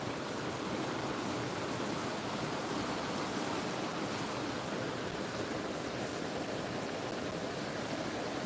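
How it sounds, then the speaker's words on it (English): Mountain creek running high after storms near Forest Falls, a dense, steady broadband rush of water that fills the whole clip without change, fairly quiet and continuous with no voices. "Creek seems up from when I was up here the other day. Maybe double what it was."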